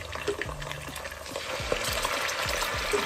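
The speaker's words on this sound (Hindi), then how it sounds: "अभी इसमें हम डालेंगे 2 टेबलस्पून अदरक लहसुन का पेस्ट," Ginger garlic paste hits browned onions in a pot for vegetable pulao, sizzling steadily while a spoon scrapes and stirs in repeated strokes, close up with no talking.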